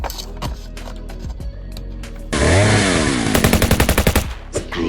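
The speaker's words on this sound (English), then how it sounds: "This is actually our chainsaw machine gun that came with our Swamp Hound" A Gridiron Studios Gator toy plays its chainsaw machine gun effect, a loud electronic revving sound followed by a rapid, rattling burst of gunfire from the small speaker, with clicks of handling around it.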